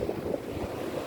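Sea waves and wind at a beach in Infanta, Quezon, heard as a steady, moderately loud wash of surf with gusty wind buffeting the microphone, no voices.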